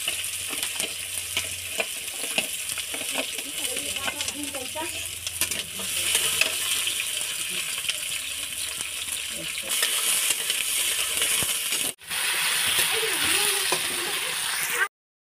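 Leftover cooked rice frying in a pan with onion and green chilli, a steady close sizzle under repeated scraping and stirring, a brief pause, then the frying and scraping resume; a few faint voices sit beneath it.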